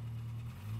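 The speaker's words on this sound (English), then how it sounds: "That must be the UPS truck." A delivery truck engine idles outside, a steady low rumble heard alone at moderate level for under a second.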